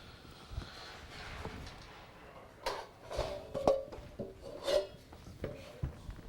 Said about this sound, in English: you're going to start by taking off the bottom felt and the bottom tension lug